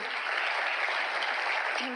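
Loud, continuous applause from a large audience welcoming a speaker at an Amway Diamond gathering, an even wash of clapping sustained throughout.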